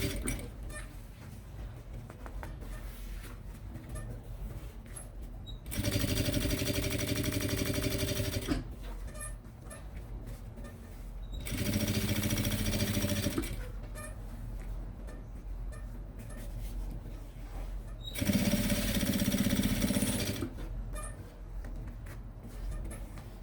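Sewing machine running in three separate bursts of a few seconds each, stitching a finishing seam on a Kipling-style pouch, with steady motor hum between quieter pauses of handling noise.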